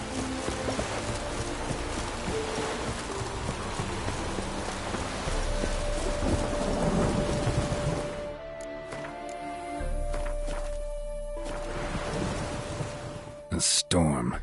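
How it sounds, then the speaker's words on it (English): Steady heavy rain pours through a thunderstorm in The Witcher 3, with a dense hiss filling the scene and a faint tonal hum under it; near the end come a couple of sharp thuds. "A storm, damn it."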